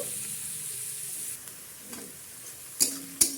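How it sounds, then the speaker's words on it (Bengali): Chopped green chillies frying in oil with ginger and onion for a restaurant-style dal tadka: a faint, steady sizzle close by, ending with two sharp utensil clicks. "এবার দিয়ে দেব লঙ্কা কুচি এটা একটু লাল লাল করে ভেজে নেব"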